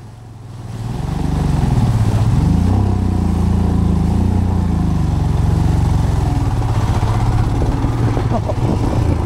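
A Royal Enfield Himalayan motorcycle in first gear ploughs through a deep water hole at the Bosnia Rally, its engine rising to a loud, steady close drone with shifting pitch and splashing rumble throughout.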